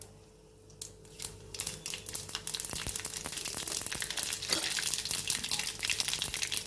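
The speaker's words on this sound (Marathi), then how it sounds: "मस्त जिरं मोहऱ्याची खमंग फोडणी करायची" Cumin and mustard seeds temper in hot oil after the sandge have been fried, a crackling sizzle that starts quiet and swells into a loud, steady, spattering hiss.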